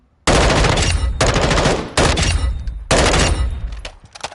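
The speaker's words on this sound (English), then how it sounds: "certainly this gun as an AR is pretty good at fast fire rate" Assault rifle in Modern Warfare 2 firing rapidly in four loud, close bursts, each a dense stream of shots with short gaps between bursts.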